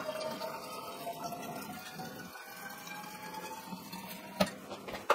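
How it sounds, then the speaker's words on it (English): Boiling water pours from a kettle into an emptied aquarium, a steady close splashing and trickling stream that continues throughout, ending in a few sharp clinks. "Grab a kettle of boiling water"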